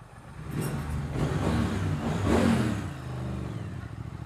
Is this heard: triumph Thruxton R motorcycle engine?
yes